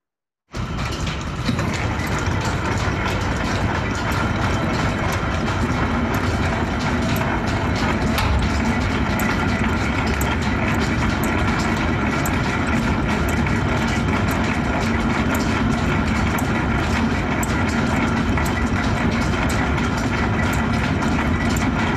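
A metal-shaping machine drives its blade across a piece of metal, giving a loud, steady mechanical clatter and grinding hum that runs unbroken for the whole stretch with no voices.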